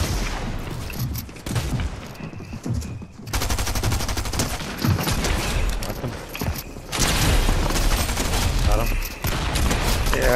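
Dense, sustained automatic gunfire in the shooter game Calamity Reload, loud and continuous with brief lulls between bursts as the player takes fire from several sides, with people talking over it.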